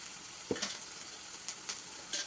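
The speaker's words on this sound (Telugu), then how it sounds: "రెండు రెమ్మలు కరివేపాకు వేసుకొని మగ్గి లైట్ బ్రౌన్ కలర్ వచ్చేంత వరకు వేగించాలి" Curry leaves and chopped onions fry in a pan for an ivy gourd and moong dal curry, giving a quiet, steady sizzle broken by a few soft stirring knocks.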